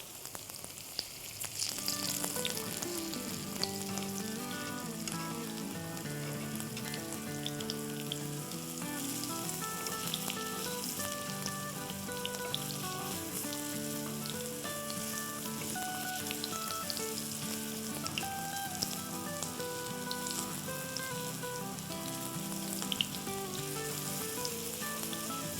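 Unniyappam batter fries in an appam pan, giving a steady, even sizzle that runs throughout beneath continuous background music, with no speech.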